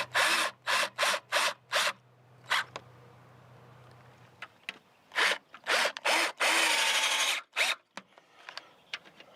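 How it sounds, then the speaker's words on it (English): Latch hardware being fitted to a wooden crawlspace door, heard as a series of short, sharp bursts of scraping and ratcheting, several in quick succession, then a longer grinding stretch near the end, close by with no talking. "now I'm just going to attach the latch"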